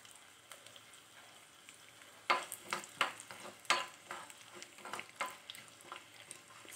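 Red chilli, mustard seeds and cumin frying in hot oil for lemon rasam, a steady close sizzle broken by sharp crackles and pops as the seeds splutter, with no talking.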